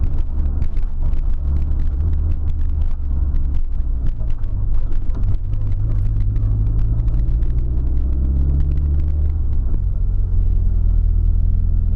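A Nissan S13 with an SR20DET engine is being driven, its low engine drone and road rumble holding steady and loud throughout, with some wind buffeting on the microphone and no speech.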